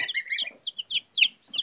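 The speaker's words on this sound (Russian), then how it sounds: "Вот такие чуды у нас растут. Цыпляткам неделя." Week-old chicks cheep close by in a quick run of high, thin peeps that overlap and pause irregularly.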